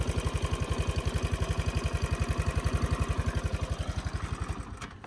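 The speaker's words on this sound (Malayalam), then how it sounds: "ഇത് മെയിൻലി ഇതിൻ്റെ ടാപ്പറ്റ് അടിക്കണ ഒരു സൗണ്ടാണ്" A motorcycle engine idles with a steady, rapid tappet ticking, a rhythmic mechanical tak-tak close up, fading slightly toward the end.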